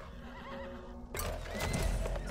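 A horse in the video game Weird West whinnies, then breaks into loud, close galloping hoofbeats that build and continue to the end.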